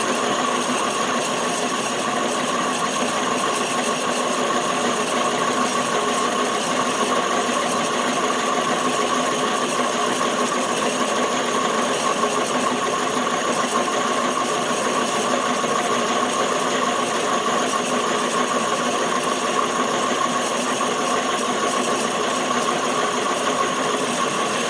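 A Highland Park high speed sphere grinding machine runs steadily and loudly throughout, a continuous mechanical whine and grinding hum with no pauses.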